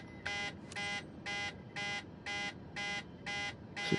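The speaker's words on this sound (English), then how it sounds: "So that alarm, I can't work out why it is" Take-off configuration warning horn in a Boeing 737 flight simulator, sounding as a series of eight evenly spaced, clipped electronic buzzing tones about half a second apart over a faint background hum.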